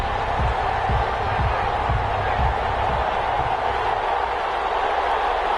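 A large stadium crowd in an EA Sports NFL video game before a Seattle Seahawks versus Baltimore Ravens matchup: steady, dense roar with low rhythmic thumps, constant and loud throughout.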